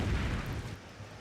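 Seawolf missiles launch from HMS Lancaster to intercept an incoming Exocet in the naval strategy game Naval War Arctic Circle: a heavy, muffled boom-like rumble that fades steadily, with no voices.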